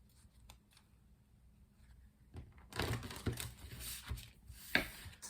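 Crisp riffling and slapping of tarot cards, a quiet start followed by a few seconds of brisk, close shuffling bursts with no talking.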